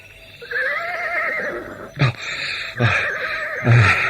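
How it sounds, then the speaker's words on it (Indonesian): Horses whinny repeatedly, starting with a long wavering neigh and followed by several shorter, louder snorting calls spaced about a second apart, close and clear without talk. "Kuda-kudaku rupanya sudah tidak sabar lagi. Mereka sudah ingin berjalan kembali."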